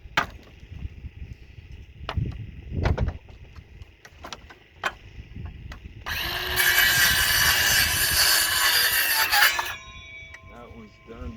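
Pallet wood being cut with a power saw outdoors, a loud continuous rasping roar for several seconds after scattered knocks and handling noises, with a person talking at times.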